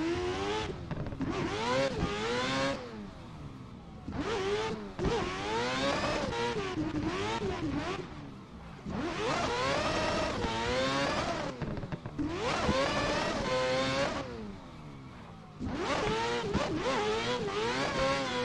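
A four-rotor Toyota A90 Supra, Adam LZ's build, screams through repeated high revving pulls in a driving game, loud rising and falling engine howls with short gaps between bursts.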